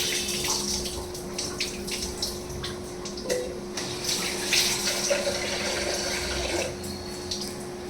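Rice being washed under a running kitchen tap: a continuous stream of water with scattered splashes and light clinks of grains and pot, close by, with no speech.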